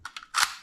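A Bostitch SB-1664FN 16 gauge finish nail gun has its magazine released and snapped shut, giving a few sharp close clicks followed by a louder clack.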